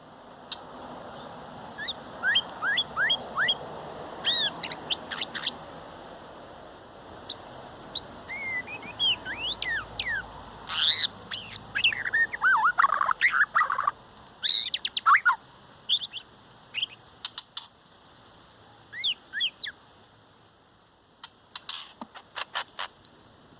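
A pet bird chirps, whistles and squawks in bursts of varied, rising and falling calls over a low background hum, close and fairly loud, with quieter stretches between.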